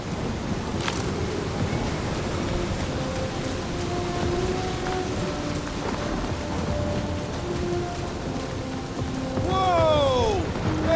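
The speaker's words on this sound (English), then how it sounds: "That is some really crazy lightning out there." In Guardians of the Galaxy, a thunderstorm with lightning rumbles under steady heavy rain, a sharp thunder crack early and more rolling thunder later, with brief tonal game sounds near the end.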